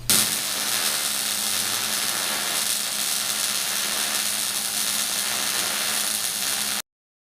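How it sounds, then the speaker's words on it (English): Welding frame plates on a Jeep XJ during a 5.7 Hemi swap: a steady, close, unbroken sizzling hiss that runs for about seven seconds and then stops abruptly. "I'm gonna go ahead and weld this up"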